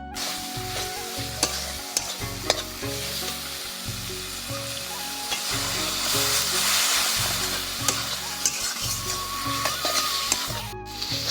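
Spice paste for a chicken dish being sautéed in a pan, a dense continuous sizzle with rhythmic scraping strokes of a spoon against the pan throughout, close and steady, no talking.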